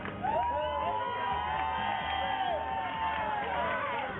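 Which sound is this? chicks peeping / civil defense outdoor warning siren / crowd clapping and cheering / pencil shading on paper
crowd clapping and cheering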